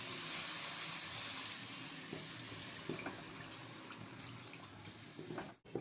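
Milk poured little by little into roasted flour in a pan over low heat, a steady liquid trickle and soft sizzle with faint clinks, ending in a brief pause.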